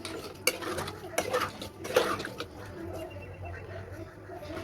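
A spoon stirs beef curry in a metal pot, with a few sharp clinks and scraping knocks against the pot early on that then settle into a softer background, close by, with bird cooing faintly in the background.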